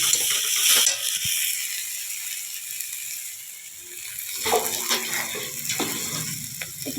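Ginger-garlic paste with turmeric and chili powder sizzles softly in a pan for a spicy pointed gourd curry, broken by scraping, clicking stirs of a spoon, with a louder burst of scraping near the end.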